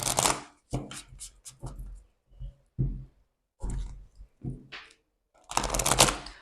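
Tarot cards are shuffled and drawn in a string of quick riffling and flicking bursts with short pauses between them, ending in a longer dense shuffle, close and clear with no talk.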